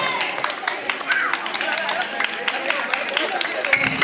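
Crowd clapping at a Pongal celebration, cheering on boys racing in an eating contest: scattered, uneven claps under loud talk and general crowd babble.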